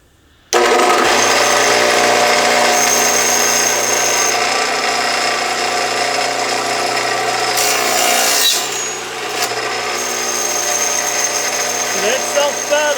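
A radial arm saw fitted with a Forest Dado King dado stack and four chippers cuts through wood, starting abruptly with a loud steady whine and grinding rasp, then a brief dip and a cut sound in the final seconds.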